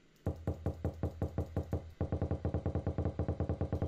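Rapid rhythmic knocking on a door in a SpongeBob video game, two quick bursts of evenly spaced knocks with a short pause between, crisp and close, with no talk.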